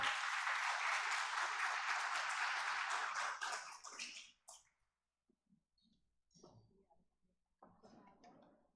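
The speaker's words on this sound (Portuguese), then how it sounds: "Uma salva de palmas, por gentileza." An audience at a public hearing in the Cuiabá city council chamber breaks into loud, dense applause for about four seconds, which then cuts off, leaving only scattered faint sounds.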